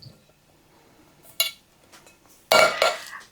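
Rinsed canned green beans tipped into a bowl in a home kitchen, giving a short clink, then after a pause a louder wet clatter and scrape of dish and utensil, close by with no talking.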